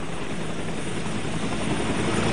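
A helicopter runs steadily at a landing pad during a hostage-release arrival, its dense rotor and engine roar loud and close throughout with no break.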